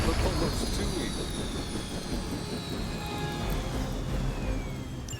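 A helicopter goes down in Marvel's Midnight Suns, a steady loud roar of engine and crash noise running throughout under game sound effects and a voice.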